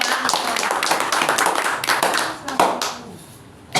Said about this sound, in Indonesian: Beri tepuk tangan yang meriah kepada beliau Bapak.